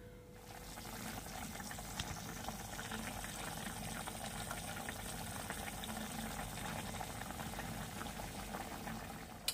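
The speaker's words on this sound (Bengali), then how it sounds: "এবার এটাকে আমি গ্যাসের ফ্লেমটাকে বাড়িয়ে দিয়ে এটাকে সেদ্ধ হতে দেবো" Steady bubbling of drumstick stalks boiling in a pot over a raised gas flame, a soft continuous simmer with a faint background hiss and no talking.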